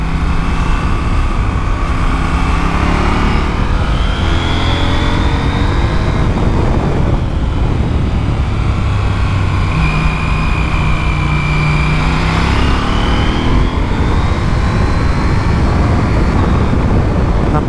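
KTM 890 SMT motorcycle engine with 105 horsepower accelerating while being ridden, revs rising and falling through several gear changes under heavy rushing wind noise, loud and close throughout.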